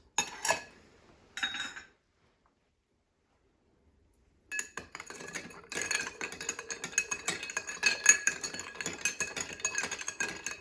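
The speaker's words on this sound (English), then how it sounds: "And just keep stirring" Ice clinking and rattling in a glass as an Old Fashioned cocktail is stirred, starting with two short bursts, then a pause, then a steady run of close, bright chinks and clatters.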